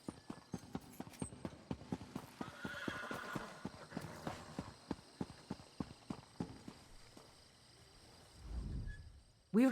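A horse's hooves clip-clop in a steady, even rhythm close by, then a low snort or whinny rises near the end before a sharp final burst.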